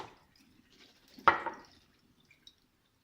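Fruit kefir grains are rinsed in water, giving one brief close splash of liquid amid quiet surroundings, followed by a couple of faint drips.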